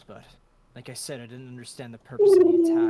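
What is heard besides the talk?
dog making an owl-like sound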